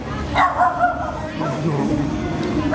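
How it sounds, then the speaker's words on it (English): A dog at an outdoor popup market in Khao Lak, Thailand barks repeatedly, its yips and whimpers close by over steady crowd chatter and background talk. "I got a dog barking at me over here"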